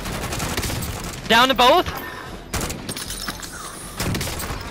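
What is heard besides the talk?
gunfire in video game Warzone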